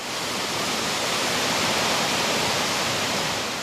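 Massive torrent of Arctic meltwater rushing through a channel in Greenland, a dense, steady, loud roar of churning water with no break across the whole stretch.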